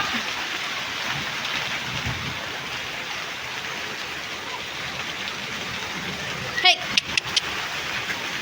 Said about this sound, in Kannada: ವರ್ಷದ ಮೊದಲನೇ ಮಳೆ ಮಳೆ ಬರ್ತಾ ಇದೆ